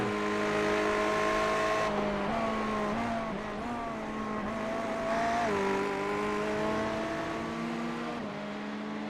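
BMW race car engine in the racing game iRacing at the Petit Le Mans event, a steady droning tone that drops and climbs with gear shifts and throttle changes, loud and continuous with no talk.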